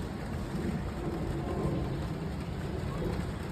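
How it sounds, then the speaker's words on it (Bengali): Steady rain hiss at a rail museum fills the scene with a low rumbling background, constant and fairly loud throughout, with faint voices mixed underneath. "বৃষ্টি শুরু হয়ে গেছে"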